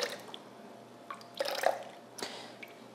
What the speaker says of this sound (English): So I'm just gonna pour it in this that had the buttermilk.